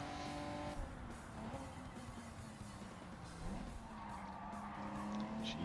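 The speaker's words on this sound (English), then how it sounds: "the wheels screaming in protest as we fumble our way through that corner" Tires squeal as a car takes a corner in Gran Turismo 7, a sustained rising and falling screech over a steady engine drone, loud and alone without voices.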